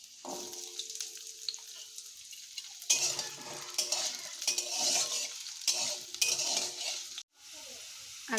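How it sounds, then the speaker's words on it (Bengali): Cut potatoes fry in hot oil in a wok, a crackling sizzle broken by bursts of stirring and scraping, with clinks of a utensil against the pan and a brief pause before it resumes. "আলুগুলো আমাদের ভাজা হয়ে গেছে।"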